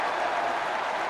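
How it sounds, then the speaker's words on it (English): Pakistan supporters roar from the stands at a Test cricket match against Australia at Headingley, a steady, dense crowd wash with no single voice standing out, sustained for the whole moment. "Every shot now greeted with a huge roar from the Pakistan contingent in the crowd."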